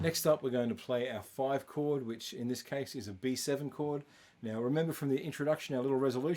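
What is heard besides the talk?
No everyday noise stands out behind the speech.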